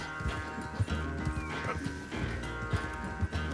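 An angry horse galloping in Red Dead Redemption 2 during a race, hooves pounding in quick rhythm with a neigh breaking through, all over a bed of game music.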